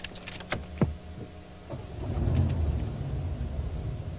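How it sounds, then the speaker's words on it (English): A quiet car engine starts up close by, a few soft clicks and a brief whir followed by a low, smooth idle rumble that settles in and continues steadily. "Go ahead and start it up and hear how quiet the engine is."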